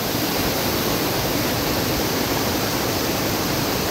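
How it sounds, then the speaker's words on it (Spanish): Continuous, dense rushing roar of a double waterfall in the Sierra de Carapé, Maldonado, heard from the top of the falls, loud and unbroken with no voices. "aquí estamos en la parte superior de la cascada doble"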